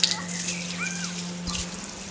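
A tap runs with a steady gushing flow of water, fairly close, with a faint voice and a few clinks in the background.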